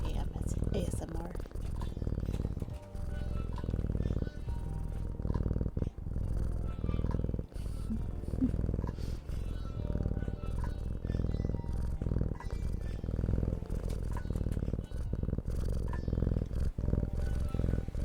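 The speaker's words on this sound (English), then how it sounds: "Rivy has the louder purr." Rivy the cat purrs loudly and close up, a continuous rhythmic rumble with a pulse on each breath that runs the whole time, with soft vocal sounds now and then.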